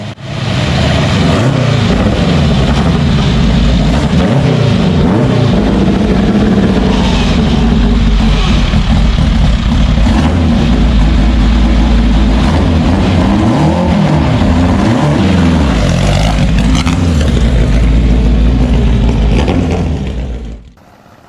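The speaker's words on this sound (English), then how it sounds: "The whine of the turbo mixes with mechanical howl, controlled violence at 290 RPM." An old race car engine runs loud and close for about twenty seconds, a dense rumbling howl with a turbo whine layered on top, fading only at the very end.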